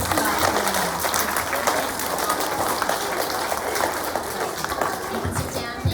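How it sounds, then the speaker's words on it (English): A school assembly crowd gives a big round of applause to students, loud, dense and sustained clapping filling the whole stretch, with cheering voices mixed in. "give a big round of applause to those superstars."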